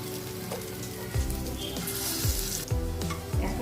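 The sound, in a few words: soya chunk kofta frying in hot oil in a kadai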